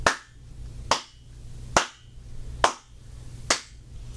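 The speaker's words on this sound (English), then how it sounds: "When I do the clap test" Five sharp hand claps, evenly spaced and close, each trailing a short echoing ring in an untreated home theater room over a low steady hum.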